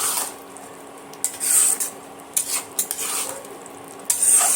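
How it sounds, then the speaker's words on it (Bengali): Spatula scraping and stirring through spiced rice in a pan, with scattered clinks and scrapes in short bursts and a faint sizzle underneath. "আবারও খুন্তি দিয়ে এইভাবে ভাতের সঙ্গে নেড়ে চেড়ে দেবো"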